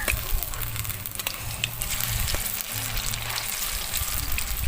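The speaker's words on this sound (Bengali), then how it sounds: "বড়াগুলো কিন্তু বেশ লাল লাল করে ভাজতে হবে" Pumpkin fritters frying in hot oil give a steady close sizzle and crackle throughout, with a low background hum underneath.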